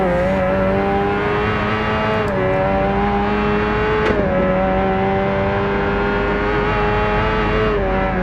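A Kawasaki ZX7RR motorcycle engine drones loudly and steadily as it laps the Nürburgring in the Ride 2 racing game, its tone dipping slightly at gear changes, with brief sharp clicks.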